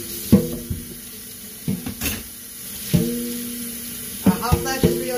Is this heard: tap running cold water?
yes